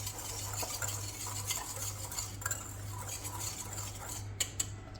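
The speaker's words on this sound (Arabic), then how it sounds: "نخلطهم مع بعضياتهم مزيان." A spoon stirs sugar and starch powder together in a bowl for a Moroccan fraisier cake, scraping and clinking in a steady rhythm over a low kitchen hum, with a few sharper taps near the end.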